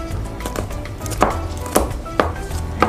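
Knife blade chopping garlic on a cutting board in a home kitchen, a few sharp, evenly spaced knocks roughly every half second over low background hum, close and fairly loud.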